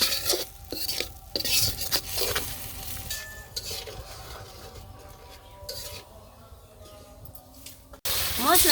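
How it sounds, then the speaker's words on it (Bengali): Chili and turmeric spice mix is stirred in a cooking pot at a village kitchen, with scraping spoon strokes against metal, soft sizzling, and clattering bursts that pause briefly before a final louder scrape. "মরিচ দিয়ে দিই হালকা মরিচ দিয়ে দিলাম একটু হলুদের ফাঁকি দিয়ে দিলাম একটু নাড়াচাড়া দিয়ে দিই গুলিয়ে"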